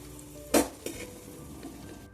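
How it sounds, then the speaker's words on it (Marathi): Boiled eggs frying in oil in a pressure cooker until golden, a soft sizzle broken by a sharp metal clank of stirring partway through. "सोनेरी कलर येतपर्यंत अंडे फ्राय करून घ्यायचे"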